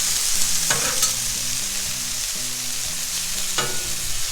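Mushrooms and vegetables sizzle steadily on a grill, a continuous frying hiss with a few brief scraping or stirring clatters.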